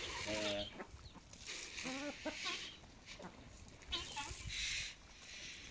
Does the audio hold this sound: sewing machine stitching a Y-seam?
no